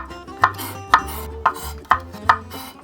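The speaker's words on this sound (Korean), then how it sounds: "이 대파를 그냥 같이 구워서 먹어도 괜찮거든요 그래서 요거를 먹기 좋게 잘라볼게요" Knife chopping green onion and garlic on a cutting board, five firm evenly spaced chops close up with quiet kitchen room tone between them.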